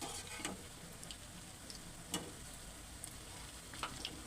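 Vada batter fries in hot oil over a medium flame, giving a soft, steady sizzle at low level with a few faint ticks and pops scattered through, no voices.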